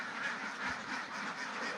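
A dense chorus of about 232 ducks quacking together on a duck farm in winter, continuous and overlapping, heard from nearby with no talking.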